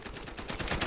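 Rapid bursts of gunfire in the video game Battlefield Hardline, a quick run of several shots in under a second, moderately faint.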